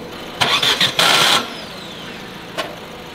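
A car with a defective starter motor cranks in a few short, loud, broken bursts. The engine fails to catch, and a brief faint noise follows after a pause.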